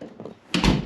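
Door of a car-hauling tender being opened, a quick close thud and rattling swing after a moment of quiet rustle, with no talking.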